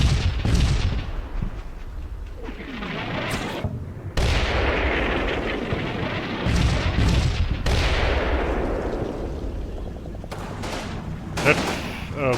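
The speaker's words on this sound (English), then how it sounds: "That's a very long artillery strike." Long artillery strike in the Combat Mission wargame, set in an Italian campaign, with repeated booming blasts and gunfire rumbling continuously for the whole stretch, loud and dense, with no one talking.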